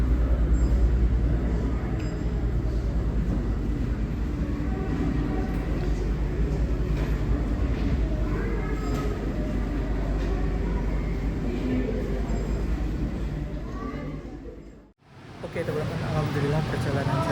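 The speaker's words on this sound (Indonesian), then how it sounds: "Ini ada kereta yang lewat di bawah." A train rolls past below a platform at Solo Balapan station, a steady low rumble with rattling carriage noise sustained for many seconds, a brief cut near the end, and a voice talking over it.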